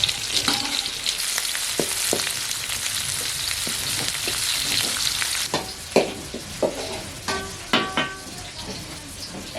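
Broken dried red chillies frying in a pan with other ingredients, a steady close sizzle with spatula scrapes that turn into sharper, more frequent metallic clinks and taps in the second half.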